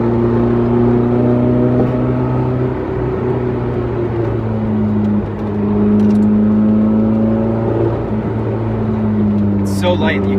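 A 1989 BMW M3 four-cylinder engine drones steadily from inside the car while driving, with a constant hum and slight changes in load throughout as a person talks over it.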